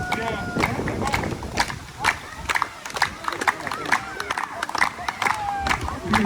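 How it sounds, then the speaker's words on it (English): Crowd at the Polynesian Cultural Center clapping hands in a fairly steady rhythm, with cheering and voices mixed in as men get ready to climb a tree. "put your hands together and clap your hands"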